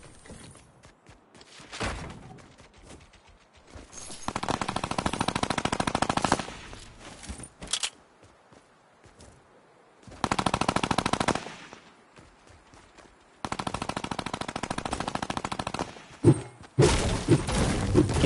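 Video game SCAR rifle fire comes in several loud bursts of automatic shots, each lasting a second or two, separated by quieter stretches of softer game sounds and thuds, with no speech.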